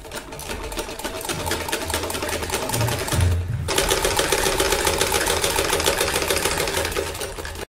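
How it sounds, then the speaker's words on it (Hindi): A sewing machine stitches the side seams of a kameez, a close, loud, rapid mechanical chatter running continuously with a brief shift in tone partway through before stopping abruptly at the end. "ये हम साइड की सिलाई लगाने लगे हैं।"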